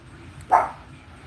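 A house dog gives a single short, sharp bark close by, alone against a quiet room background.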